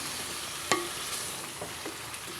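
Spoon stirring chicken and karela (bitter gourd) with spices such as cinnamon in a pan, a soft clack of the utensil followed by quieter scraping and faint sizzling, near and without talk.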